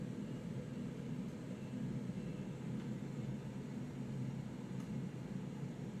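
A steady, fairly quiet drone of a propeller aircraft engine in the Prepar3D flight simulator as power is nudged up for taxiing, a constant low hum with airy hiss and no talking.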